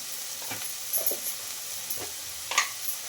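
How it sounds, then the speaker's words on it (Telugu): A spoon stirs spinach masala curry in a pan, with soft scraping strokes over a steady sizzle and steam hiss, fairly close and alone with no talk. "ఇవి కూడా వేసేసుకొని బాగా కలిపేసుకుందాం"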